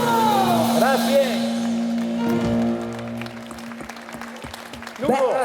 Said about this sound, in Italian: Forte applauso a Fabio!